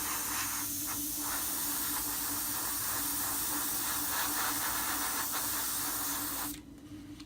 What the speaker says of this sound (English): It's just air coming out there now, no paint.